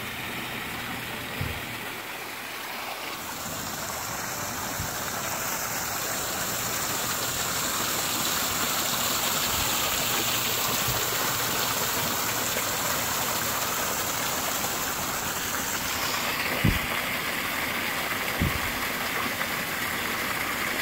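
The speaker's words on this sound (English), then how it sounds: "here at the waterfall that drifts off into the pool" A waterfall spilling into a pool at Reelfoot Lake gives a steady, broad rushing roar that holds evenly throughout, fairly close, with a few faint knocks and bumps in the background.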